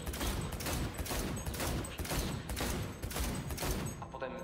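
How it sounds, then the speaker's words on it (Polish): Rapid pistol shots in Cyberpunk 2077 2.0, a steady rhythmic string of roughly a dozen crisp reports at moderate loudness, stopping abruptly just before the end. "Jak strzelam pistolcem."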